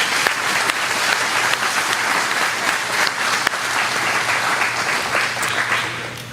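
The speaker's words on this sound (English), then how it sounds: "I think they deserve one more round of applause," An audience at a graduation ceremony gives the students a round of applause, with sustained, dense clapping from many hands filling the room at an even level throughout, with a low steady hum underneath.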